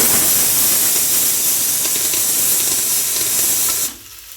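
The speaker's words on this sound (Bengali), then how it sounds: "এই যে বেগুন ভাজাগুলো বসিয়ে দিয়েছি আর বাবা আর মা দুজনে খাবে তো অল্প তেল দিয়ে একদম জাস্ট শাঁকা শাঁকা করেই ভাজছি" Steady, loud sizzling hiss of eggplant slices frying in a little hot oil, continuous for several seconds before suddenly dropping away.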